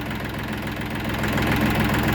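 A YTO 244SX tractor engine runs steadily at an even throb with a slight knock, loud and close, driven at night with no talk over it.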